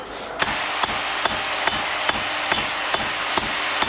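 Hammer blows on hot metal as an arrowhead is forged at the anvil, about nine sharp, evenly spaced strikes ringing out close and loud over a steady background hiss.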